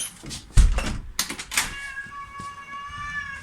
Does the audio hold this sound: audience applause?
no